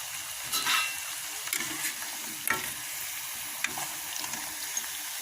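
Thin slices of elephant foot yam fry in hot oil, giving a steady, bubbling sizzle close by, broken now and then by brief scraping stirs and light clinks.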